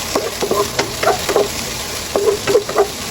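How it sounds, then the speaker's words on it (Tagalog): Tomatoes dropped into a hot frying pan, giving a soft continuous sizzle broken by several close stirring scrapes and clinks of a utensil, with no talk. "ilagay ko na din yung kamatis"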